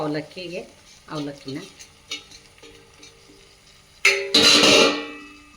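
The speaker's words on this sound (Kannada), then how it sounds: "ಅವಲಕ್ಕಿನ ಹಾಕಿ ಆ ಒಗ್ಗರಣೆದಿದೆಯಲ್ಲ ಅದರಿಂದ ಮಿಕ್ಸ್ ಮಾಡಬೇಕು" Soaked poha being mixed into a tomato tempering in a pan, with scraping and stirring under speech, then a loud burst of stirring and sizzle near the end.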